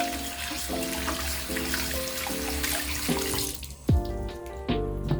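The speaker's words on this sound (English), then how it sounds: "So what I'll do is just give him a good rinse." A dirty Littlest Pet Shop toy figure is rinsed under a running kitchen tap, a continuous splashing water stream with a brief louder gush near the end.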